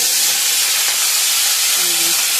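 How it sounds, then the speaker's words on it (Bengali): Crab legs fry in hot oil with salt and turmeric, giving a loud, steady, close sizzle and hiss that continues without a break. "এবার এইগুলোকে এবার ভাজতে হবে, এই সব ঠ্যাংগুলোকে। এটাও আবার নুন হলুদ দিয়ে ভাজবো।"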